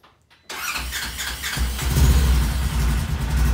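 A 2020 Polaris Ranger engine cranks after a short silence, then catches and runs with a loud, steady idle rumble and a whining squeal, close up with no talking.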